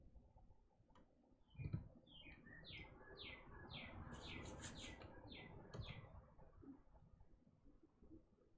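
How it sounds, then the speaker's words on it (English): A bird outside a house gives a run of about a dozen quick, bright chirps in steady rhythm, moderately close, over faint background noise with a brief thump near the start. "there is a bird outside my house."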